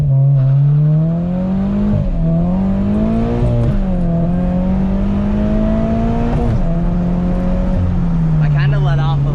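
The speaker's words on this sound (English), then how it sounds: "we'll try a little launch in this car" Subaru BRZ with a manual gearbox launching and pulling hard, its engine droning loud and close with pitch rising and dipping through gear changes, people talking over it from inside the cabin.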